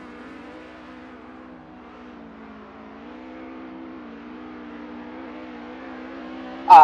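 A car engine in a drifting video game hums and revs steadily in a low, even drone, rising slightly in pitch, then ends in a brief loud burst at the very end.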